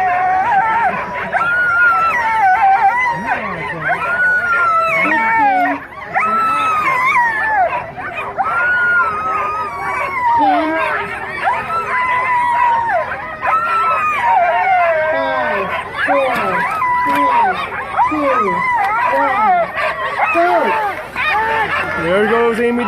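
Sled dogs at a long-distance race start line, barking, yipping and howling together in a loud, continuous excited chorus, with a voice commentating over them.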